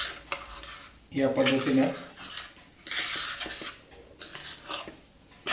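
Semolina is stirred and roasted in ghee in a pan over a low flame, with a spoon scraping and clinking against the metal in uneven bursts, close by, and a voice speaks briefly.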